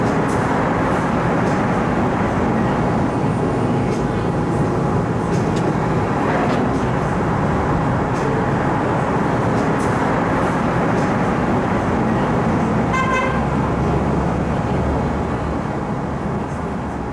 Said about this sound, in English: I'm going to hop on this train and then we'll go for a ride